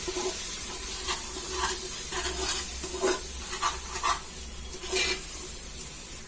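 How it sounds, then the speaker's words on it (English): Spices fried with a spoon of water sizzle steadily in a pan, with occasional scrapes of stirring over a constant hiss. "I'm adding a little more, 1 spoon of water,"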